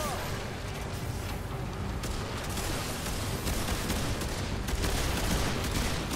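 Dense, continuous gunfire from a shooter game, Remnant 2, with rapid overlapping shots and impacts forming a steady loud barrage throughout, while a player's voice talks over the action.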